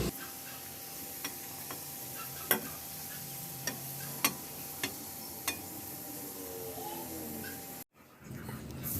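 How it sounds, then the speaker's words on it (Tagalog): Garlic sautéing in a pan for a beef tongue dish sizzles steadily, with a few sharp clicks from stirring and a brief clatter near the end. "Igisa ko na rin yung bawang."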